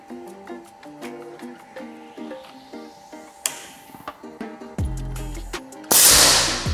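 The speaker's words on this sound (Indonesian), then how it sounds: "Oke, 5 kali tembakan masih rapat." PCP air rifle, OD 38 Tactical series, firing a series of sharp, snappy shots at uneven intervals. Each crack is followed by clicks and mechanical handling, and a louder burst of noise comes near the end.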